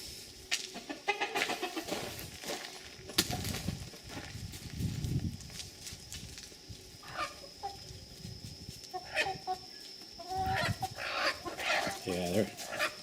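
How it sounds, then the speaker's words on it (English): Backyard chickens cluck and squabble over seeds, with scattered bursts of clucking and squawks heard nearby at moderate loudness, and a person talking between them. "the chickens are fighting over it."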